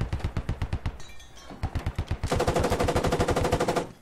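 Rapid automatic gunfire in a video game, loud and close, with fast repeated shots in bursts and a sustained heavy volley near the end, no talking.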